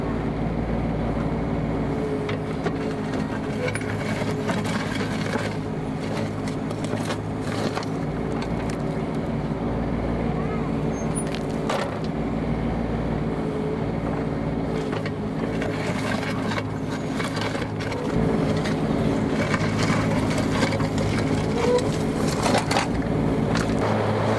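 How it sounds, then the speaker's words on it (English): A digger's diesel engine works steadily while it digs a small trench, a constant close rumble with scraping and clanking of the bucket in the ground and no one talking. "We're going to dig a little trench here, and we're going to watch Matt doing that."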